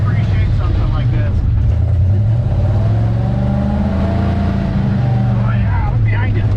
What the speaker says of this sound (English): Who says you can't off-road in a Mercury?